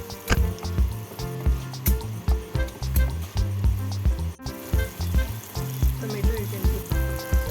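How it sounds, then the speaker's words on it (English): Chopped onion sautéing in half a tablespoon of butter for a Goan chicken stew, a steady close sizzle and frying crackle running throughout, with rhythmic pulses like stirring or background music beneath it. "Half tablespoon of butter. 1 chopped onion. Saute until the onion turns translucent."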